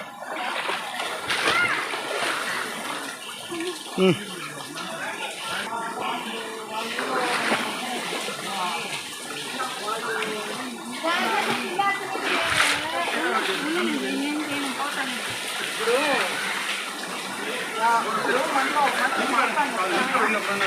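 Water splashes and churns at a waterfall in the Penchalakona forest, a steady rushing spray with a few sharper splashes, while children and adults talk nearby.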